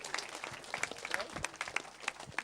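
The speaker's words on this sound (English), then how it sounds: "Everyone give a big round of applause." A small audience claps for a volunteer called up on stage at a comedy show, scattered, uneven claps that sound moderately close and fairly quiet, with some voices mixed in.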